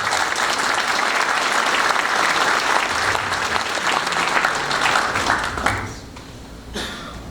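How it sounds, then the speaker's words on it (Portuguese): An audience at a board inauguration ceremony applauds the University of Uberaba with a long, dense round of clapping that holds strong for several seconds, then drops sharply and trails off into scattered claps and room noise. "Eu pediria um aplauso para a nossa Universidade de Uberaba"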